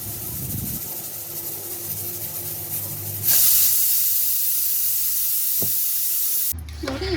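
Steam blasts from a pressure cooker cooking tomato bath in a home kitchen. A loud, sustained hiss bursts in abruptly, runs for a few seconds and then cuts off, following a quieter stretch of background noise.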